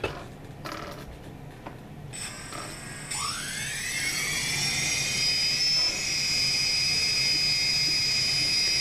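A brushless drone motor for a DJI Phantom 2 Vision Plus whines up from silence, its high tone sweeping upward and settling into a steady, piercing whir, close and fairly loud.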